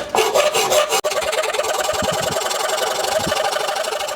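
A metal shaft is cut by hand for mounting a pulley, making loud, close, rhythmic rasping strokes that run continuously with a brief break near the start, each stroke a harsh scraping grind.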